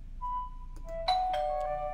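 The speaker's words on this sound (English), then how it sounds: "Suddenly the doorbell rings." Doorbell chimes inside a house in the video game Doki Doki Blue Skies: a clear two-tone ding-dong rings out over quiet background ambience, with a tone, a brighter strike, and a ringing decay.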